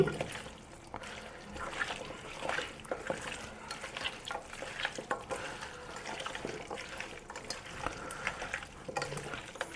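Country chicken curry being stirred in a pot after salt is added, soft scraping and wet squelching with a faint sizzle underneath, steady and close, with no talk.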